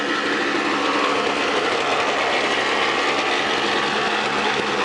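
A Snapper SX5200E single-stage snowblower with a Tecumseh HSK850 two-cycle engine runs steadily, a loud, buzzy, high-revving drone close by that holds even throughout, with no talking.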